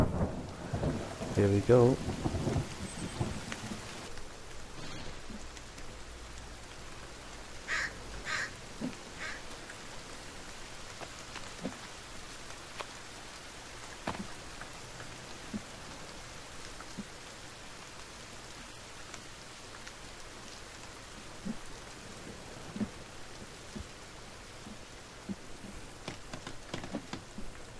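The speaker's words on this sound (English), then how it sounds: "Oh, look at that storm." A thunderstorm with rain rolls through the survival game The Forest: low rumbles and scattered cracks over a soft, continuous rain bed, with a brief spoken remark near the start.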